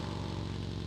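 A faint motorcycle engine in PUBG Mobile hums and putters at a steady pitch in the distance, brief and low.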